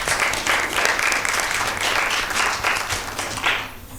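A studio audience at a Mother's Day Bible quiz show gives a hearty round of applause for a correct answer, a thick, continuous burst of many clapping hands over a low hum, easing slightly at the end.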